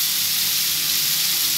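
Shallots frying in a pan for a tomato-based sambal, a loud steady sizzle and hiss close by, continuous with no voices.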